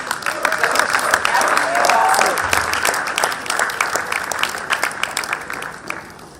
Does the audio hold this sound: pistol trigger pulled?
no